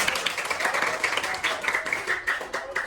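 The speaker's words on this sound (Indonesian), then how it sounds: "Tepuk tangan untuk kita semua." A sixth-grade class of primary school pupils claps together in the classroom, a brisk, uneven patter of small hands lasting a few seconds, fairly close and lively.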